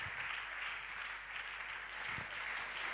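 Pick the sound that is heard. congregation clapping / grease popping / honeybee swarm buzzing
congregation clapping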